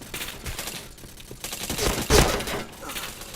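Rapid bursts of gunfire from the online shooter Point Blank, dense overlapping shots with a louder cluster near the middle, game effects layered throughout.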